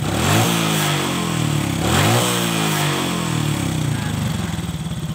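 Honda Kharisma motorcycle engine after carburettor tuning, revved twice in quick blips that rise and fall, then settling into a steady, slightly uneven idle close by.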